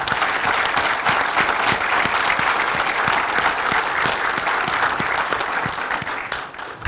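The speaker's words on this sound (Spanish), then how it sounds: "un fuerte aplauso para él" An audience at a public security forum in Tijuana applauds a newly introduced panelist, loud continuous clapping from a crowd that lasts about seven seconds before tapering slightly at the end.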